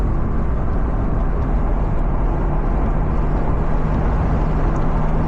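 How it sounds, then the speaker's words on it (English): A Mazda Miata NA engine at wide open throttle, a steady, loud, low droning roar that stays constant and unbroken with no shifts or voices. "I'm gonna do a couple wide open throttle blasts and see how it goes."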